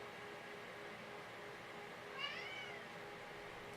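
A cat gives a single short meow partway through, faint against a quiet indoor background hum.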